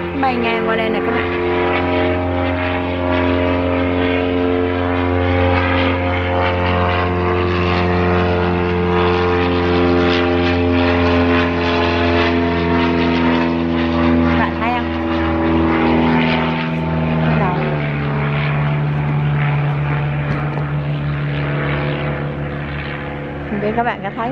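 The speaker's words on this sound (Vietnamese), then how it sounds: "thôi cho nghe tiếng máy bay luôn đi." Propeller airplanes drone loudly overhead in a sustained, steady roar that shifts pitch slightly as they pass, one after another; a person speaks beneath the engine noise.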